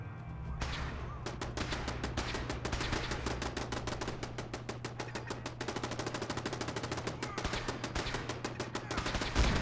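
Rapid automatic turret fire in Fallout 4 rattles almost continuously, a dense stream of sharp shots that grows faster and more clipped toward the end over a steady low hum.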